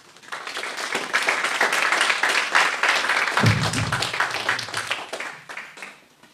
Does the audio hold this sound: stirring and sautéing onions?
no